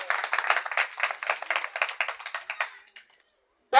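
Clapping at a political rally in Côte d'Ivoire, a sparse, fairly close burst of hand claps in uneven rhythm. It fades out after about three seconds, and a short silence follows.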